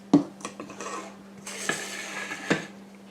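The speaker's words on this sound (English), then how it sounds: "I'm just going to start putting this batter into my pans." A one-cup scoop moves chocolate cake batter into baking pans with a few knocks and clinks of metal on pan, soft scraping between them, and a steady hum underneath.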